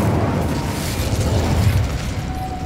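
A fire spell is cast in Hogwarts Legacy, giving a loud, sustained roaring whoosh of flame with a crackling burst texture that holds for the whole moment, with no talking over it.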